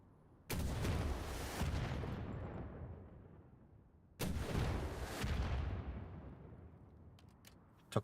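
Two heavy rocket blasts in a video game, each a sudden loud boom that rolls off into a long decaying rumble, the second about four seconds after the first, with faint clicks near the end.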